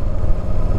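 A 950 V-twin motorcycle engine running, a loud, close, steady low throb with an uneven pulsing beat through the whole short burst, no voices.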